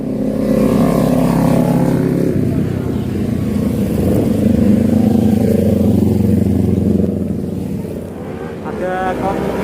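Several motorcycles roar past near a beach, engines loud and continuous for several seconds before fading slightly, with voices talking over the noise.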